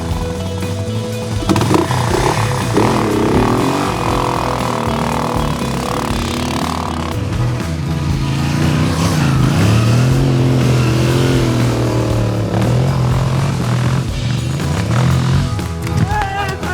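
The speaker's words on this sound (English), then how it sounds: "Full gas in second gear." An adventure motorcycle ridden hard at full throttle in second gear at an off-road riding event in Sweden, a loud close engine roar that climbs and holds steady throughout, with a voice talking over it.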